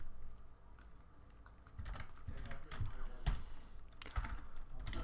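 Computer keyboard typing as code is written for a Unity 5 melee game with player control, in irregular bursts of close, clicky keystrokes that grow busier partway through, with no talk over it.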